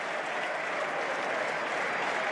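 A football crowd at Watford v Coventry City in the EFL Championship breaks into steady, sustained applause, a dense wash of clapping that holds evenly throughout with no pauses.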